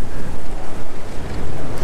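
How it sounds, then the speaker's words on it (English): Strong wind roars across the microphone on a boat while bass fishing, a loud, continuous buffeting rush with faint water sounds beneath and no voices. "You'll see how hard that wind is blowing."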